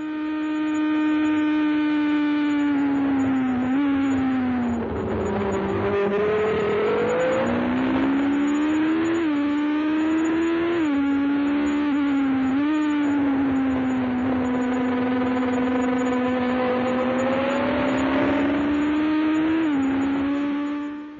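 Formula One racing cars at Grand Prix practice, among them Lafitte's Ligier, scream past in a continuous loud run, engines rising and falling through gear changes as several cars sweep by close together.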